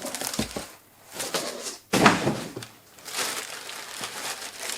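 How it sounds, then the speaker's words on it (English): An oversized plastic bag crinkles and rustles in bursts as an ELAC Integrator IW S10EQ in-wall subwoofer is pulled out of it, close and moderately loud with brief pauses between handling. "opening the product from the bag"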